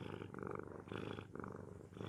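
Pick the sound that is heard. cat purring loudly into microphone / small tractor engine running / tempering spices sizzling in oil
cat purring loudly into microphone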